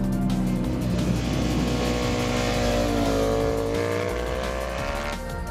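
A Ducati Panigale V4R motorcycle accelerates hard on a racetrack, its engine roaring loud and close with a continuous, rising buzz across the whole stretch.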